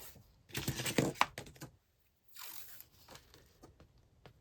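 Scissors snip through paper while trimming pages of a B5 journal for a horizontal Dutch door, with a burst of close crisp cuts, a short pause, then lighter scattered snips and rustling.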